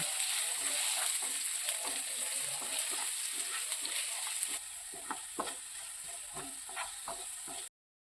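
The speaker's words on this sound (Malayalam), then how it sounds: "അരിഞ്ഞു വെച്ചിരിക്കുന്ന ഇഞ്ചി ഇട്ട് കൊടുത്തിട്ട് നല്ല രീതിയിലൊന്ന് വഴറ്റിയെടുക്കാം" Chopped ginger sautéing in a pan of hot oil while rambutan pickle is being made, a steady close sizzle with scattered crackles and spoon scrapes, dropping slightly in level halfway through.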